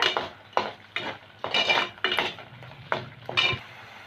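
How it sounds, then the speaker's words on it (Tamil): A spoon stirs potato masala gravy in a metal pan, making about eight rhythmic scraping and clinking strokes up close over a faint background sizzle. "எல்லாத்தையும் நல்லா மிக்ஸ் பண்ணிக்கோங்க."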